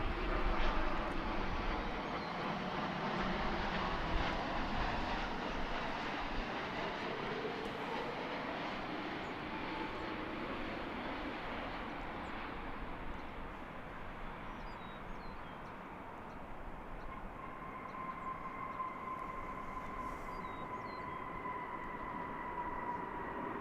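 American Airlines Boeing Dreamliner arriving from Kahului, Maui, its engines a broad steady roar slowly fading and thinning, leaving a faint whine near the end.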